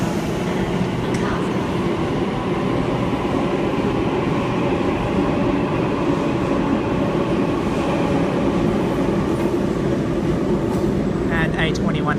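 A Sydney train departs Circular Quay station at afternoon peak: a steady, continuous rumble and rail noise fills the whole stretch, with a platform announcement voice heard over it.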